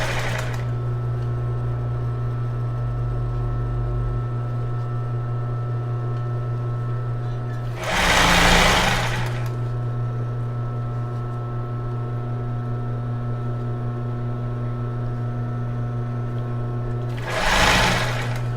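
A sewing machine backstitches elastic lace onto a bra. Two short, loud bursts of stitching rise over a steady low motor hum and are separated by a long pause.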